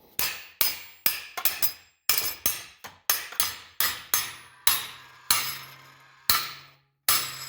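A series of sharp hammer blows driving a wedge into place at a blacksmith forge, about a dozen strikes at an uneven steady pace, each ringing briefly with a metallic tap, close and loud.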